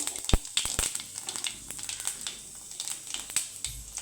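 Seeds crackle and pop in hot oil, a close, busy sizzle of sharp irregular snaps over a light frying hiss.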